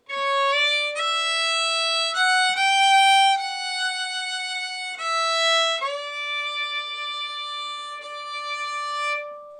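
A harmonica plays a melodic tune alone, clear and close, with sustained reedy notes shifting between pitches, including a low bent note standing in for a natural rather than a sharp, in a steady phrase.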